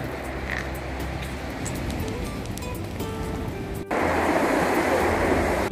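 Sea waves break along the shingle beach and promenade wall at Cromer, Norfolk, in a steady roar of surf that swells noticeably louder toward the end, with no voices.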